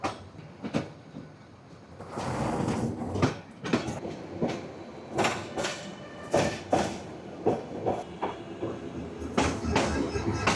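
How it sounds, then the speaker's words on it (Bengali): Mahanagar Provati passenger train pulling out of a station on the Dhaka to Chattogram line, with a steady rumble and repeated clacking of wheels over rail joints, fairly close and continuous. "এখন ট্রেনটা যখন স্টেশন থেকে বেড়ে যাচ্ছে"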